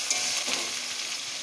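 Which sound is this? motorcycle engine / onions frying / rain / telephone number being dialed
onions frying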